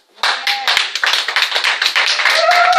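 Congregation clapping together in acclamation at a church service, a dense, steady burst of many hands lasting a few seconds, loud and close, with a faint voice briefly audible near the end.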